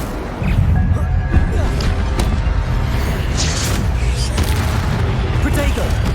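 Incendio fire spells are cast in Hogwarts Legacy, bringing a dense, rumbling burst of flame and booming impacts that roar on steadily through the clip.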